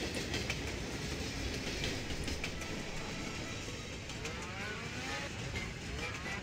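A train rumbles along in the video game Contract J.A.C.K., a steady faint rolling roar with soft rhythmic clatter throughout and no talking.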